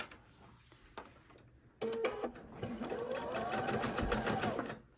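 A sewing machine stitches quilt block seams on a Polaris block, running steadily for about three seconds after a few soft taps and quiet handling, with a close, even mechanical whir.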